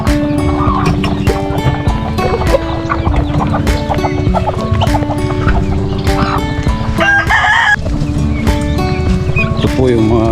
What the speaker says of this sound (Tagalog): Tapos ito pong 28 sisiw ng manok